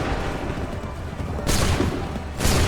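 Musket volley fire in Assassin's Creed III, heard as two loud, broad crashing volleys over a steady battle rumble, the first bursting in about midway and the second near the end.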